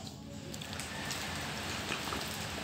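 Rain falling outdoors in a steady, noisy hiss of drops that runs unbroken and fairly quiet throughout.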